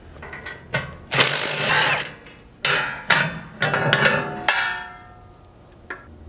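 A hand ratchet working hitch bolts loose on a Toyota Tundra, several bursts of quick metallic clicking separated by short pauses, close and fairly loud.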